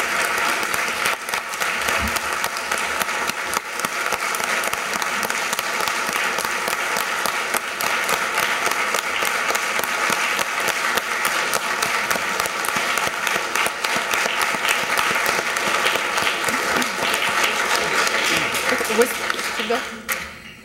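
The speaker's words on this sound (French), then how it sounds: "permettre à cette Assemblée de lui offrir chaleureusement une bonne main d'applaudissements" An assembly applauding warmly during a tribute to Benedetti: dense, sustained clapping from a large crowd, loud and even for about twenty seconds before tapering off at the very end.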